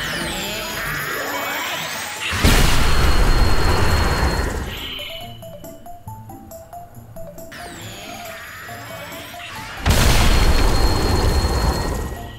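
Two loud, booming explosions in Fortnite Chapter 3 Season 3 go off near a reboot van, each with a long rumbling tail, over continuous game sounds.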